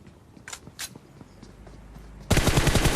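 Burst of automatic gunfire in the mobile battle-royale game PUBG Mobile, breaking in loudly near the end after quieter footsteps and game sounds.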